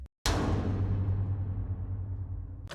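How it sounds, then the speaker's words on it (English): A single metallic hit sound effect for a heavy metal production strikes sharply, then rings with a sustained low tonal resonance that slowly fades over about two seconds. "So over here is a metal hit."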